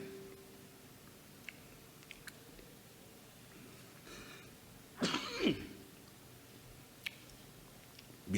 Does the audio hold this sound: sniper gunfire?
no